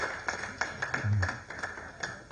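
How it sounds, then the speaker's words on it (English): An audience gives a round of hand clapping at a results release event, a thin scattered patter of claps with a few sharper slaps, fairly faint and mostly free of speech. "a hand clap for UNEP with a special way"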